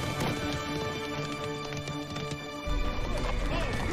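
Hooves of a horse clip-clopping at a run with a few whinnies, heard under a busy dramatic score in a fairy-tale television drama scene.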